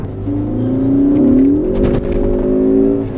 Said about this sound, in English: That's that wheel hop